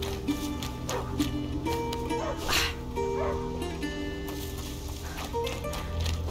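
A dog barks and yips repeatedly in a medieval video game forest scene, with whimpering sounds between the barks over a low droning ambient score.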